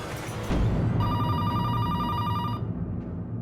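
A telephone rings with an outgoing-call ringback tone, a steady electronic trill lasting about a second and a half over a busy, loud background, then cutting off.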